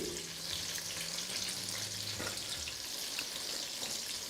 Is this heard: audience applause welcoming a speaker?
no